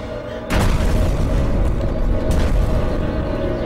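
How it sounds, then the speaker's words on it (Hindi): A loud explosion boom from a film erupts suddenly after a brief quiet moment, then rumbles on as a heavy, sustained roar with a second swell midway, filling the whole clip with no talk. "ये कैसा धमाका?"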